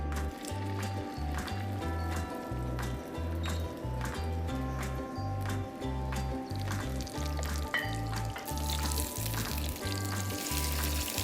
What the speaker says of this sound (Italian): poi lo mettiamo a friggere